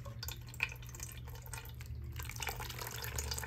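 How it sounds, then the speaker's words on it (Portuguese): Water poured into a homemade natural fertilizer mix for desert roses, a soft, steady trickle with faint splashing that runs quietly and continuously without any talking. "Você já pode colocar um pouco de água a mais."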